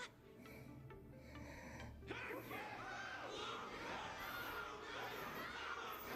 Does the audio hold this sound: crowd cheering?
yes